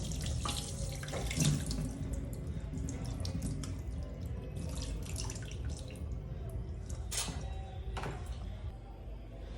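Tap water runs steadily into a sink as tilapia and Nile perch are rinsed, with a broad continuous splash and occasional clinks and drips over the flow.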